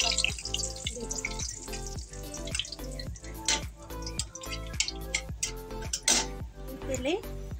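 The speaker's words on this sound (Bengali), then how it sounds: "এবার তেলের মধ্যে দুটো শুকনো লঙ্কা তেজপাতা দিয়ে দেবো।" Dried red chillies and bay leaves go into hot vegetable oil and crackle in quick, sputtering pops. A voice talks over the sizzle.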